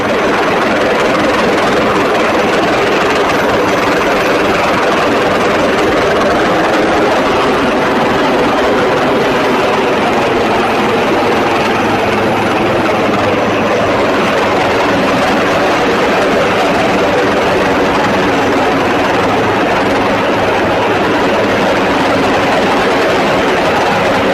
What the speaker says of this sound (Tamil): இறங்குதளத்திற்கு மேலே பறந்தபடி ஹெலிகாப்டர் இருக்க அங்கு சிக்கி இருந்தவர்கள் மேலே ஏறினர்.